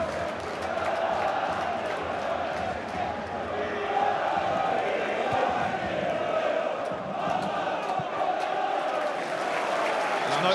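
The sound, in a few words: football crowd at Carlisle v Leeds getting involved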